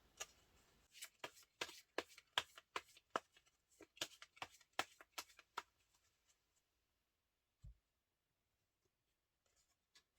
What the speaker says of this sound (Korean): 몇 장 더 뽑아볼게요.